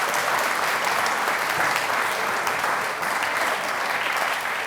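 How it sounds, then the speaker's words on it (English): Sustained applause from an audience at a community awards ceremony greets a nominee, steady and dense throughout with no break. "There's another round of applause for Nikki"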